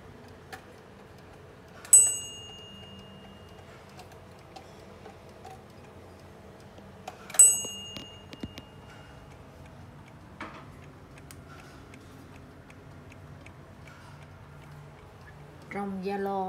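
An Odo clock with a Japy movement ticks softly and strikes two bright chimes about five seconds apart, close by in a quiet room, with a voice starting near the end.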